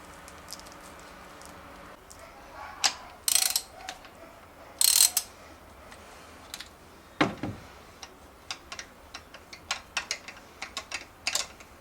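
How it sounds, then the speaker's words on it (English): A ratchet wrench loosening rocker arm bolts on a Honda CR-V B20 engine clicks close by, with bursts of rapid pawl ticking, a few sharper metallic knocks and scattered clinks between turns. "So now let's remove the rocker arms and the spark plugs."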